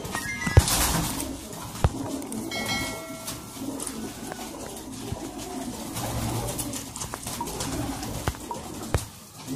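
High flyer pigeons coo softly through a continuous wash of background noise, with occasional sharp knocks and clicks close by.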